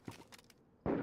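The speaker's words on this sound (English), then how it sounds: "People shooting at the event." Faint, distant gunfire crackles at an event in the video game DayZ, a few quick shots in a short burst, followed by a louder wash of noise at the end.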